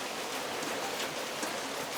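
Heavy monsoon rain falls in the Konkan region as a steady, soft hiss of drops on surfaces, even and unbroken, at a modest distance, with no talking.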